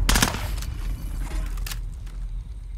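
A rapid burst of gunfire up close in the video game Warzone, several sharp shots in quick succession, followed by a lighter crack amid steady background rumble.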